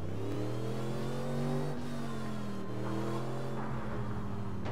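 A car in the APB Reloaded game drives close by with its engine revving up and easing off, a steady mid-pitched roar with rising and falling tones and no talk over it.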